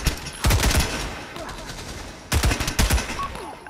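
An MP40 submachine gun fires in the World War II mode of the VR shooter Pavlov. Two loud, rapid bursts of automatic fire are separated by a quieter stretch of game ambience.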